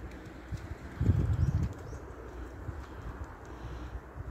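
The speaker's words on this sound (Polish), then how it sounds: "Nie chcą usiąść gołębie." Pigeons from a racing flock circle overhead without settling, their wingbeats a brief soft flutter of flapping around the one-second mark against quiet outdoor background noise.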